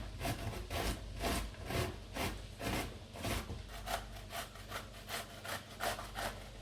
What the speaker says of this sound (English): First I'm gonna grate the cucumbers.